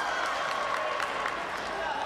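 Spectators at a taekwondo world grand prix contest applauding steadily, a dense wash of clapping from a large crowd with a commentator talking over it.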